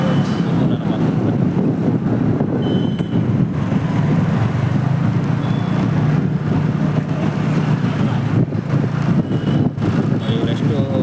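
A motor vehicle engine drones steadily while riding slowly in traffic on a Karnataka road, a continuous low rumble mixed with wind buffeting across the whole stretch, with no pauses.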